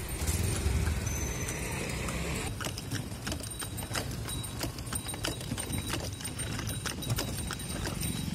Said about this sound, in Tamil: இன்னைக்கு இருக்கிற இந்த நெரிசலான ரோட்லையும் பெருகி போன மோட்டார் வாகனங்களோட போட்டி போட்டுக்கிட்டு இந்த குதிரை வண்டி ஓடிக்கிட்டு தான் இருக்கு